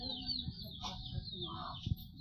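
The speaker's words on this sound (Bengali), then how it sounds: "এটা কার মুরগি?" A chicken clucking outdoors near knee-deep water and banana trees, a few short soft clucks with faint chirps over background noise, no talk.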